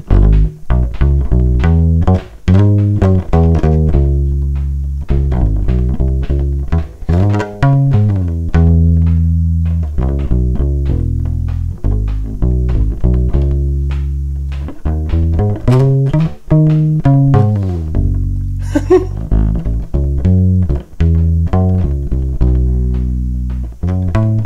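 Play Tech PUB500 ukulele bass plugged straight into a line input, plucked notes with short, soft, rounded decay and little sustain, played steadily in a continuous bassline, close and clean with no voices.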